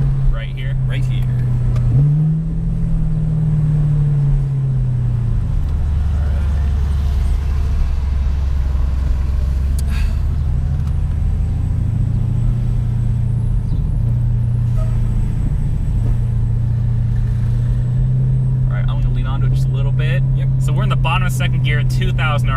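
A Chevrolet Camaro SS hybrid pulls hard in second gear from around 2,000 RPM, its loud steady engine drone rising in pitch from inside the cabin while someone talks over it.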